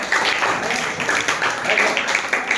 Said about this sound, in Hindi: हाँ ताली बजाओ यार